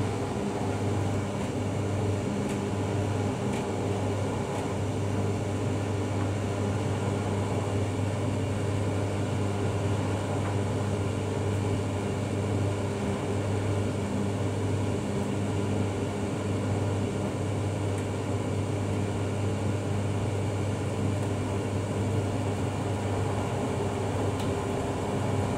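A Bosch Serie 4 WTN83200GB condenser tumble dryer runs with a steady, unbroken mechanical hum and a low drum rumble, moderately loud and with no other sounds.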